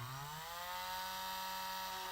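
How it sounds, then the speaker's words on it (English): A power drill bores a hole into a Mezco Nosferatu toy figure's elbow during a repair, a steady motor whine running close and loud for about two seconds, pitch rising briefly at the start. "all I'm going to do is just drill a hole"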